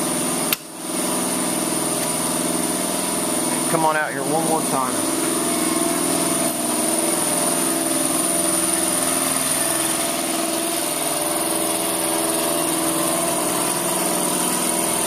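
A water cannon system builds up air pressure with a loud, steady mechanical hum that continues throughout. Someone speaks briefly over it near the start.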